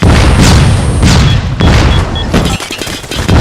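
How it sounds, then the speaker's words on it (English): A flashbang grenade bursts in a Call of Duty Mobile ranked multiplayer Hardpoint match, landing as a loud, heavy boom among several thudding blasts and a constant clatter of gunfire. "Watch out, the flashbang!"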